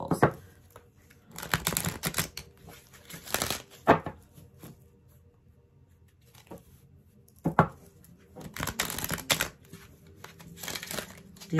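Bursts of papery riffling and crinkling as flexible oracle cards are shuffled, a few separate flurries with quiet gaps between them, close up.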